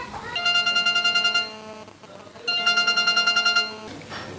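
A telephone ringtone plays in a room: two bursts of a bright, rapidly pulsing electronic trill, separated by a short pause, loud and close, with faint room noise between them.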